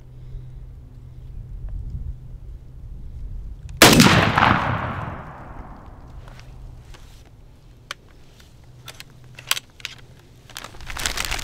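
A single loud, close shotgun blast from a turkey gun firing a 3-inch Remington Nitro Turkey number 5 shell, cracking sharply and then fading, followed by a few faint clicks and shuffling.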